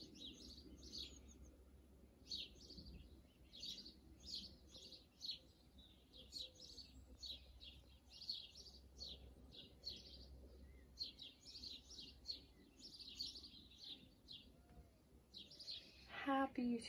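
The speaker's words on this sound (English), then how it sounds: "Little birds singing to me when I've got up." Small birds chirp and sing continuously in quick, high twittering bursts, moderately distant as if heard through an open window, with faint low background rumble.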